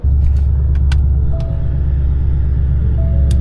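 A loud Ford Mustang idles in a parking lot with a deep, steady engine rumble, close and constant, with a few faint clicks and jingles over the low drone and no talk.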